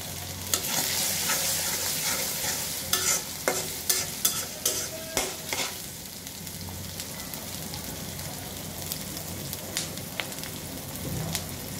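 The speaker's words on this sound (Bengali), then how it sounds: "ভেজে নিচ্ছি, যাতে আদার কাঁচা গন্ধটা চলে যায়।" Ginger frying in a pan with chickpeas, turmeric powder and mashed potato added, a continuous close crackling sizzle with a run of rhythmic spoon stirring knocks, then softer steady frying.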